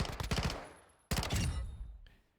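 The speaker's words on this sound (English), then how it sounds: "from here, you're going to have to do some burst firing to get it to hit this far" Two short bursts of automatic fire from a weapon in Call of Duty, each a rapid string of sharp close shots that tails off into a fading echo, separated by a brief gap.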